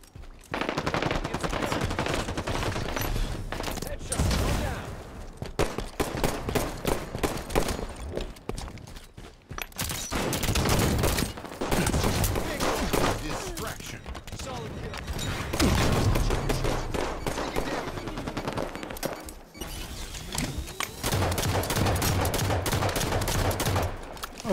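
Rapid bursts of automatic gunfire and single shots crackle through a Halo 5 match. Sustained volleys are broken by brief pauses, with footsteps and other game effects mixed in.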